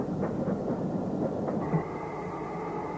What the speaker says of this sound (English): these 2 Stanier 8Fs haul a freight train towards the Birmingham line